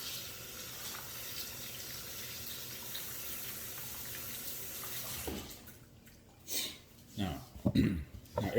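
Tap water runs into a kitchen sink as a cucumber is rinsed, a soft continuous stream that gives way to louder splashing and handling noises near the end.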